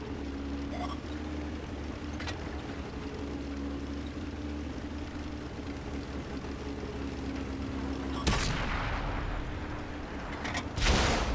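Lycan T71 tank guns fire in World of Tanks, two heavy booming shots late on, over a constant low engine rumble and ambient drone.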